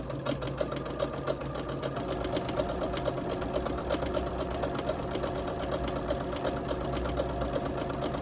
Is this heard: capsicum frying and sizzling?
no